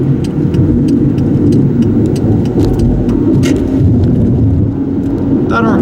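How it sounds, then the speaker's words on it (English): A 2002 Chevy Malibu driving and accelerating, a loud steady engine and road drone heard from inside, with a rise as the transmission downshifts and no talking. "you start to put your foot down and transmission downshifts"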